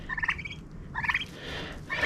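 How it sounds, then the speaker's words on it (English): Turkeys gobble in three rapid, warbling bursts, close by, with short pauses between calls. "Turkeys, come over here."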